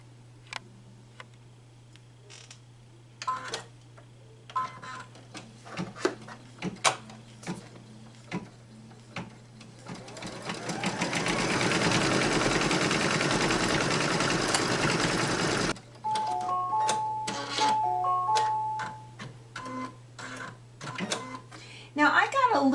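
A home embroidery machine stitches a free embroidery design, a fast steady mechanical whirr and clatter running loud for several seconds between quieter ticks, clicks and handling sounds, with a low constant hum underneath.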